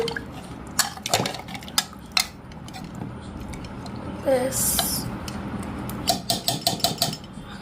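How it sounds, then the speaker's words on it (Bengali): A spoon stirs curry in a pan after garam masala goes in, making scattered metallic clinks and scrapes against the pan, with a brief voice partway through. "গরম মশলা দিয়ে নিয়েছি এবার একটু নাড়িয়ে নিলাম"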